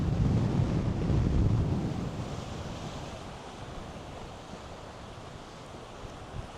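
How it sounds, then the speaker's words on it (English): Strong coastal wind at Cockle Creek, Tasmania, roaring and buffeting the microphone over the wash of surf, loudest at first and then easing into a steady rushing blow. "Oh, very windy."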